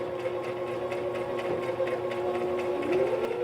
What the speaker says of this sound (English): I've been sewing a little bit slower because I want to make sure that this all fits up and locks properly